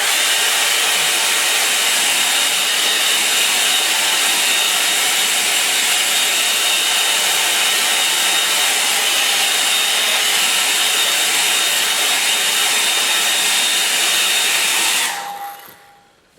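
A hair dryer roars loudly and steadily close by as it dries a watercolour painting. The constant blowing hiss holds for about fifteen seconds, then cuts off abruptly and leaves a quiet room.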